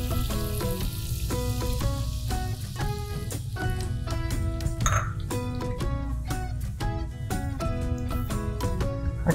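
White wine hits a hot pan of kassler, sizzling and frying steadily while a utensil clinks and scrapes against the pan in a quick, repeated rhythm, with no talking.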